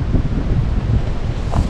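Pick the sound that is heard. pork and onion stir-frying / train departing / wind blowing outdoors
wind blowing outdoors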